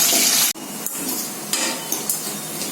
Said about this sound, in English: you can see here cashew nuts. We will saute for few seconds.